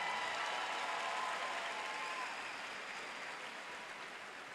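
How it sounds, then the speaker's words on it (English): Broad, steady applause from a college commencement crowd, a dense wash of clapping that fades gradually over several seconds. "Would you applaud?"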